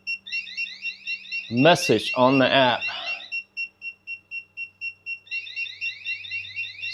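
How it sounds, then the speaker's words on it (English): A Frizzlife LPG365 water leak monitor sounds its alarm, a rapid series of loud, regular electronic beeps that pause briefly while a person talks, then resume. "So it does trigger an alarm, and it's pretty quick response."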